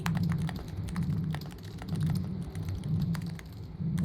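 Squishy-sounding computer keyboard in the game Dead Letter Dept., typed in fast, irregular bursts of muted, close clicks over a continuous low hum.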